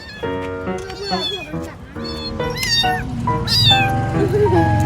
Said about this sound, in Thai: ทำไมแมวร้องแบบนี้ มันร้องเรียกแม่มัน